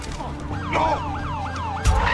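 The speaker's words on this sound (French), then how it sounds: "J'ai pris un camion de pompiers!" A fire truck siren wails in a fast, repeating up-and-down pattern, loud and near, with traffic noise beneath and a heavy thump at the end.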